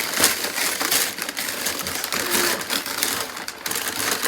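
Wrapping paper is ripped and crumpled off a retro-themed toy gift box in a continuous close, loud crinkling and tearing rustle with no voices.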